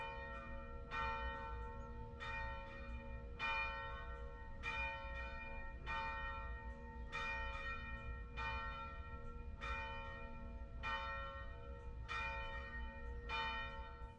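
Church bells at Christ Church Cathedral ring in a steady, evenly spaced series of strikes, resonant and sustained, heard alone over a low hum with no talking.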